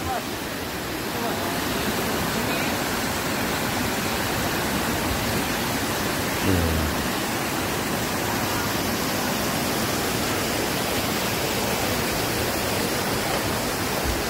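River flowing beside a bridge at Camp Bravo on a jungle trekking trail, a loud, constant broadband rush of water filling the whole stretch, with a brief faint voice partway through.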